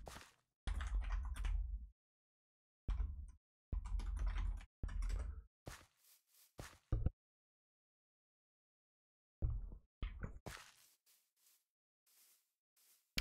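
Bursts of computer keyboard typing during a Minecraft-style game session, clustered keystrokes in short runs separated by pauses, fairly close and moderately loud with scattered isolated clicks.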